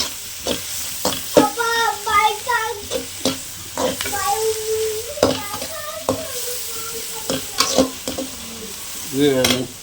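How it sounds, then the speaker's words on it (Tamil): Onions sauté in a pan for egg curry, with a continuous sizzle and repeated close scrapes and clinks of a spoon stirring against the pan. "வெங்காயம் நல்லா வணங்கிடுச்சு."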